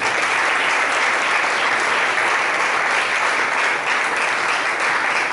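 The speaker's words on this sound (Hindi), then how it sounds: "हम सब उनको तालियों के साथ उनका अभिनंदन करें" A church congregation applauds at a Sunday sermon, dense sustained clapping from a large crowd that fills the room loudly and evenly throughout, with no voices over it.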